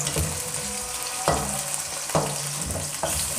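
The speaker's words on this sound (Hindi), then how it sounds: "अब गोश्त को हम अच्छी तरह से भूनेंगे।" Mutton fries with browned onions in a pan, a steady sizzle punctuated by three sharp stirring scrapes, close and loud with no speech.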